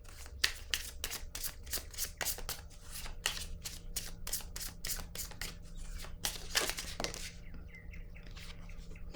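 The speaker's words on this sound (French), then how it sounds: "je vais piger une carte rose pour déposer sur ces trois-là" Playing cards being handled and drawn from a deck, a close series of quick crisp flicks and riffling snaps in an irregular rhythm over a quiet room hum, with no talk.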